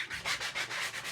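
Hand sanding of a painted DIY craft piece with 150 grit sandpaper: five or six quick back-and-forth rasping strokes in a steady rhythm, close and fairly quiet, with no talking.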